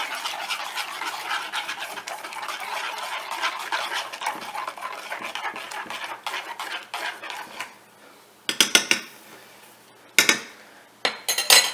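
Corn puree is stirred into homemade carp dough bait in a bowl, giving a close, continuous wet scraping and mixing, followed by a few sharp clinks of the utensil against the bowl near the end.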